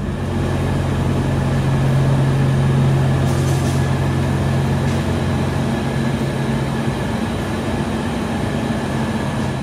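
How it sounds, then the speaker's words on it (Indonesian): The Argo Parahyangan train rolls into Bandung station, a loud, steady rumble of wheels and carriage with a low sustained hum throughout. "Dan akhirnya kereta Argo Parahyangan menuntaskan perjalanan di stasiun Bandung dengan catatan keterlambatan sekitar 5 menit ya."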